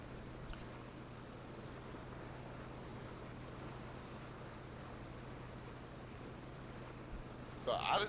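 Boat engine drone with water and wind rush on the ocean in PUBG, a steady low hum running continuously with a brief louder burst near the end.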